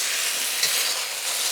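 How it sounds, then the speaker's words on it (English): Browned beef sizzles steadily in a hot pan while being stirred, a close, continuous frying hiss with faint scraping, no voices. "I'm going to mix that up a little"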